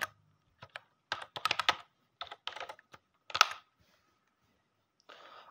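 A password being typed on a computer keyboard during an email login, with quick bursts of close, crisp key clicks in an uneven rhythm and short pauses between strokes.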